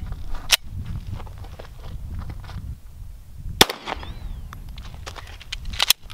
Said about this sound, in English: first we're gonna shoot the 9mm using a Glock 19.